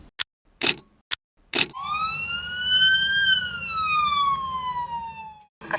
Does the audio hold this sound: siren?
yes